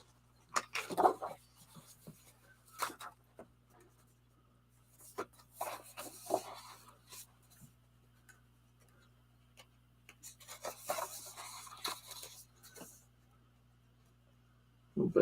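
Sheet of paper being cut out of a pad, giving intermittent scraping, rubbing cuts in bursts separated by quiet pauses, close and fairly faint against a low steady hum.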